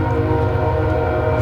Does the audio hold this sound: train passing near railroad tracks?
yes